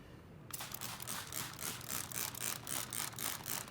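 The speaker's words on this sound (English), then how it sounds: "I'm gonna spray your drawing with my magic spray" A spray bottle squirts in a quick, steady series of short hissing bursts onto a tie-dye drawing, close by, with no talking.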